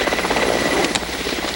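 A helicopter flies overhead near a tree in tiger habitat, a loud steady rotor thump with engine whine throughout.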